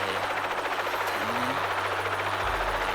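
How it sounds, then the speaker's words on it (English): A loud, steady helicopter drone in the video game Psycho-Pass: Mandatory Happiness, chopping rotor noise filling the whole stretch, with a low rumble swelling toward the end. "The helicopter is very loud."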